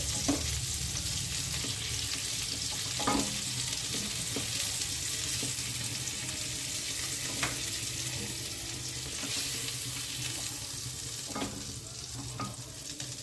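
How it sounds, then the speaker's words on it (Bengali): Giant freshwater prawns frying in hot oil over a low flame, being prepared for a coconut-milk malai curry, give a steady, close sizzle throughout with occasional soft scrapes and clinks of a utensil, no voices. "চিংড়ি মাছের দুটো সাইডই ভালোভাবে ভাজা হয়ে গেছে"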